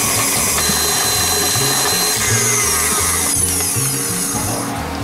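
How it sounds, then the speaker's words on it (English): Stand mixer beating butter into pistachio macaron filling, with a loud steady motor whir and a rhythmic churning pulse from the bowl, close and continuous. "Now I incorporate my butter little by little."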